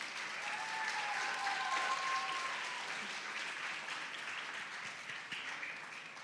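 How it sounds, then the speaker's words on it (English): An audience at a Bharatanatyam arangetram dance recital applauds the dancer, a sustained wash of clapping from a large crowd heard from some distance, fairly soft and even throughout with a faint tone running underneath. "she deserves another round of applause."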